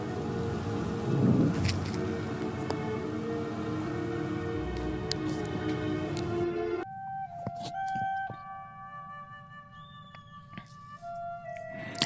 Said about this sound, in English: Eventually, the storm goes away,